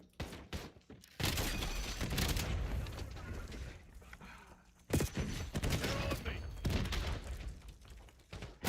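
A sniper rifle loaded with mortar rounds fires in a shooter video game, giving loud bursts of gunfire and heavy booming impacts in two long volleys, with a voice talking over parts of it.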